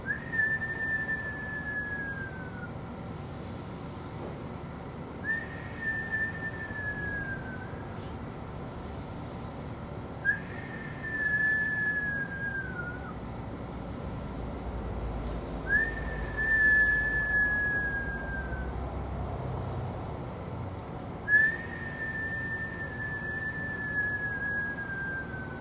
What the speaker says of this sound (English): Whistle while you work out.